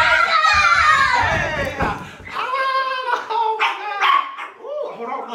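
A dog barks and yips repeatedly at close range, its bursts mixed with excited voices of people and children talking over it.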